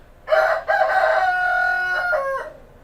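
A pet rooster about two or three years old crows once at close range, a loud drawn-out cock-a-doodle-doo with a brief break near the start and a short falling tail.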